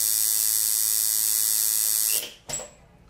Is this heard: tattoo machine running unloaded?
yes